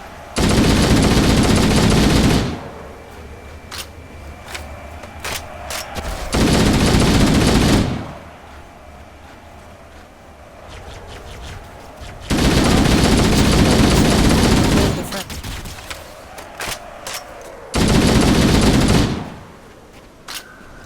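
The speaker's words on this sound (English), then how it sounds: "I was shooting at them." Automatic gunfire from Halo: Combat Evolved co-op play, in four loud sustained bursts of a few seconds each, separated by quieter stretches of game ambience with occasional single shots.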